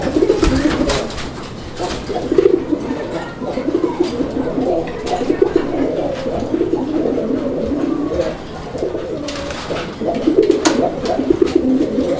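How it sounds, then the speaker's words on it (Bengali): Raj-Golla pigeons coo nearby in repeated low, throaty phrases, several birds overlapping, with faint background noise and no clear talking. "কবুতরের ডাক দেখে নাকি"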